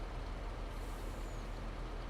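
Steady hiss of truck air brakes in Farming Simulator 22, a continuous faint rush of released air with no other sounds.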